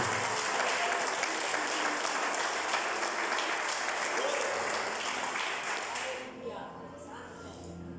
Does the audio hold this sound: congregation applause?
yes